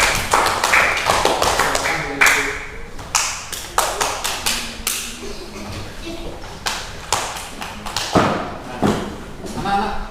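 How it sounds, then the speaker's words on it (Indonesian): Children in a classroom clap for a group of classmates after a presentation. The claps are scattered, uneven and fairly close, with a few sharp louder hits and some background voices. "Sekali lagi beri tepuk tangan untuk kelompok"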